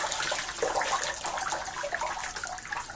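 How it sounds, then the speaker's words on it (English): Water runs out of a lifted pool filter in a steady splashing trickle, close by and continuous for a few seconds, with no voices. "So now we'll just pick up a filter, let it drain out a bit"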